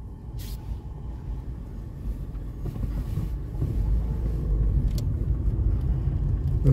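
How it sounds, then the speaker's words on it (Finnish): An Opel Astra driving on the road, heard as a steady low rumble of engine and road noise from inside the car that grows slightly louder, with no talk. "Nyt tässä ollaan Opelilla Astralla liikenteessä."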